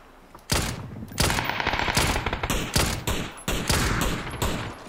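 Rapid bursts of automatic gunfire in a video game crackle loudly in repeated volleys through a multi-team fight, with no voices heard over them.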